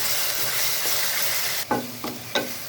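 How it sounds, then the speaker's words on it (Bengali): Chicken korma sizzles steadily while frying in a pan, and a few sharp clacks of a spoon scraping and stirring the pan break through near the end. "তো এটাকে এখন আমি নেড়ে নিব।"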